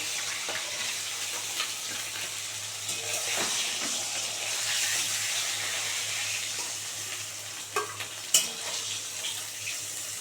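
Small fesa fish fry in a pan until crisp on both sides, giving a steady, soft sizzling hiss with a few sharper pops and clicks near the end.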